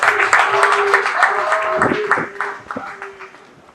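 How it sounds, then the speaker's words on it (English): A live audience at a trade event claps for a king, producing scattered, uneven applause that builds and thins out, heard up close while a voice speaks over it. "Please clap for him."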